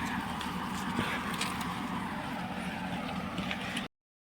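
Tractor running steadily through a farm field while spraying crop rows, a continuous broadband engine and spray rumble at constant loudness throughout, with no talk.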